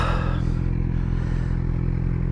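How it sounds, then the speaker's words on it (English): A 2023 Suzuki GSX-R600 sport bike engine runs close and loud, a steady buzzing drone with a slight rise in pitch early on, alone without talk. "There you are, ladies and gentlemen. GSX-R600."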